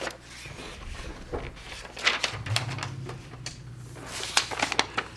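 A sewing machine stitches paper piecing along a marked line, short bursts of mechanical clatter and ticking mixed with a low motor hum, close and moderately loud with brief pauses between runs.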